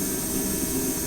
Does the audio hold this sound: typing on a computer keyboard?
no